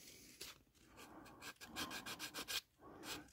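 Dry paint being scuffed by hand with 400-grit sandpaper on a 1960 Corvette, a quick series of soft, raspy back-and-forth strokes close up.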